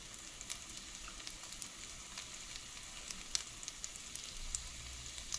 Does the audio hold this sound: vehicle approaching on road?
no